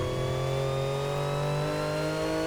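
A car engine drones at high revs with a steady, slightly synthetic tone in the video game Need for Speed Heat. It stays constant and even, and no one speaks.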